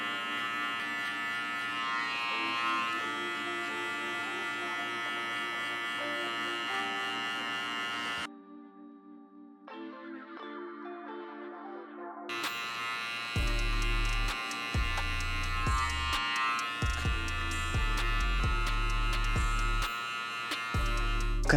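Electric hair clippers buzzing during a men's fade haircut with texture, a steady close motor drone that cuts out briefly midway, then returns with louder low thumps and rumbles as the clipper touches and moves against the head.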